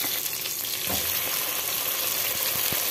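Chicken adobo pieces fry and splatter in a hot pan, a steady close sizzle with scattered pops and crackles throughout, no voices.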